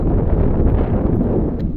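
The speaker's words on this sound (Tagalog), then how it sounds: "grabe yung ihip ng hangin. Malakas." Strong wind gusting on high ground near windmills, buffeting the microphone with a loud, low rumbling roar that surges and eases continuously, with no one speaking.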